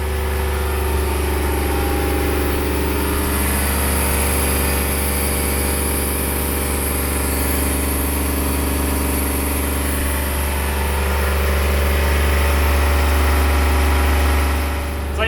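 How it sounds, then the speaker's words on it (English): A steady, loud mechanical drone of a watermaker pump running continuously aboard a boat, with a constant low hum and no pauses. "the water maker's running and it's loud."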